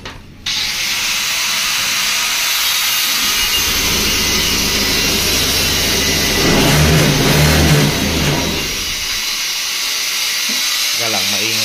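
A Honda Beat scooter with a misfiring engine revs loudly during a test, a harsh roar that starts abruptly, swells in the middle and then fades back, with no talking.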